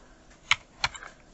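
Two crisp keystrokes on a computer keyboard while a mobile number is entered in Photoshop, clicking close by with a short pause between them, then a couple of fainter taps.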